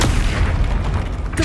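An Incendio fire spell blast from the Hogwarts Legacy video game, a loud, dense, roaring burst of booming noise that fills the whole moment without letting up.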